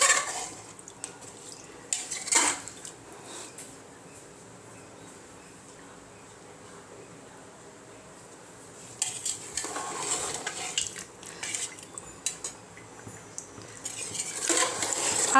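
Chicken bhuna fry being stirred in a pan, with a utensil scraping and clinking against the metal in bursts separated by quieter stretches of sizzling.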